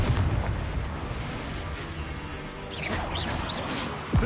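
Spell blasts from a Confringo fire curse in the Hogwarts Legacy game: a dense, continuous rumbling wash of magical bursts and booms with some whooshing streaks near the end and a sharp pop at the close.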